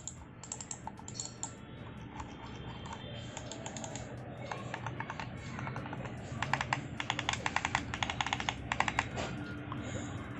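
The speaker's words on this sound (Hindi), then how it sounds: "जब आप रेडगियर के माउस पे क्लिक करोगे कुछ इस टाइप का साउंड आएगा।" Redgear A-17 computer mouse buttons clicking in rapid, dense bursts, close and fairly loud over a steady background hiss, growing busier toward the end.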